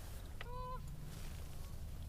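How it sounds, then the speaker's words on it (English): Geese honk as they fly in over a conservation area during a hunt, a short burst of a few nasal calls at middle distance, followed by quiet outdoor ambience. "Geese are coming in on me."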